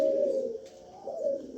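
Old breeder pigeons cooing nearby, a drawn-out throaty coo followed by a second rising one after a short pause, over quiet background noise.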